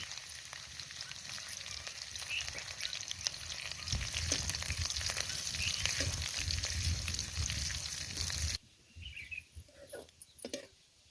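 Garlic, cumin and green chillies sizzle loudly in hot oil for a tempering on a wood-fired stove, a steady crackling hiss with some stirring, that drops off abruptly to quieter spatters near the end.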